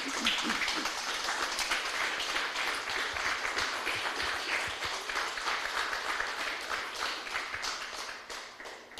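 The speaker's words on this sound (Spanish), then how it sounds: "Denle un aplauso fuerte al Señor." A church congregation applauds the Lord during a Spanish-language sermon, producing dense, steady clapping that carries on for the full stretch at moderate level with no talking over it.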